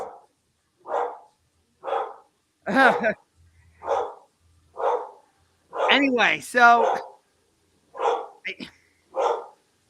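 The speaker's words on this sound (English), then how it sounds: "Oh, both of our dogs are barking at the same time." Two household dogs barking together in a series of sharp, separate woofs that are close and fairly loud, roughly ten barks in about ten seconds, while someone talks briefly between them.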